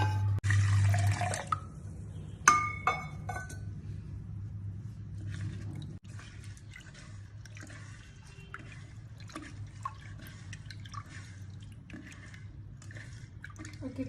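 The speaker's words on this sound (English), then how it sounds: "later put them in a vessel and wash them with water" Dal being washed by hand in a vessel of water, heard as soft sloshing, clinks and drips, a louder splash near the start, then quieter intermittent swishing against a low steady background hum.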